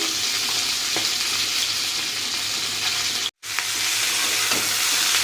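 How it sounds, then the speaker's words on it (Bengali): Steady, loud sizzling of fish frying in hot oil, a continuous crackle with a brief dropout partway through. "এই যে মাছ ভাজা চলছে"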